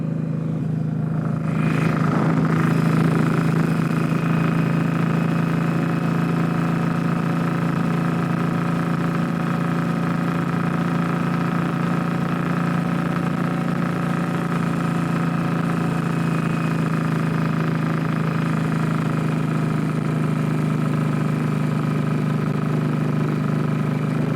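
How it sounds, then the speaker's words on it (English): An Indian Scout motorcycle engine runs steadily up close, its exhaust giving a constant buzzing drone with a low throb and no talking. "How about some exhaust sound?"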